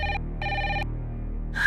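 A telephone bell rings indoors in short repeated bursts: two clear rings and the start of a third, loud and close with no talk over them.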